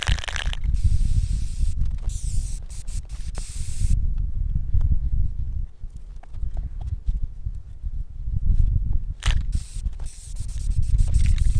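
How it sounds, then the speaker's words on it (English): Clear coat sprayed from an aerosol can indoors in a workshop: loud, steady hissing bursts run through most of the clip, broken by short pauses and faint rattles, with no talking. "what you just saw me do there was I sprayed clear coat in my workshop"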